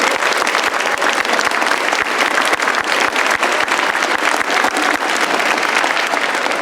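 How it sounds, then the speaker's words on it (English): Dense, steady applause fills a high school spring band concert hall, many hands clapping loudly and evenly without letup as the audience honors a graduating senior. "let's give a round of applause to Daniel Batchelor"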